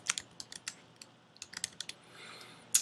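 Quick, irregular keystrokes on a computer keyboard, a dozen or so light taps with a sharper final clack, fairly quiet and close with no talking.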